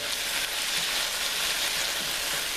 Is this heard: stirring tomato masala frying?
yes